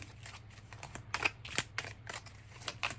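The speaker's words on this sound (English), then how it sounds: "circle cards are always hard to shuffle for me" Circular tarot cards being shuffled by hand, a soft run of close papery riffles and flicks with no talk.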